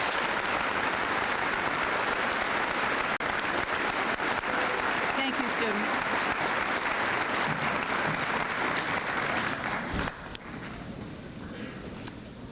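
Audience applause fills a school senior assembly hall, a dense, sustained clatter of many hands lasting about ten seconds before dropping off, with a voice speaking over it near the end.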